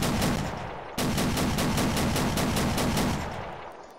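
Rapid gunfire from a US tank's cannon and .50 cal machine gun in a video game, a dense, loud, steady burst of repeated shots with a heavy low rumble, lasting several seconds before tapering off.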